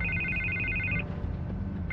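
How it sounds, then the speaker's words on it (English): A telephone rings in the Batman Telltale video game with a bright electronic trill that sounds for about a second, pauses, then starts again, heard alone against a low, dark background hum. "I can't get the phone to stop ringing."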